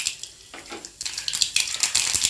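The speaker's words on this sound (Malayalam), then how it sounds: "എണ്ണ ചൂടായി, കടുക് ഇട്ട് കൊടുക്കാം" Mustard seeds hit hot oil in a pan while tempering a mackerel fish curry, with a bright crackling sizzle that surges in stronger bursts and keeps spitting and popping steadily.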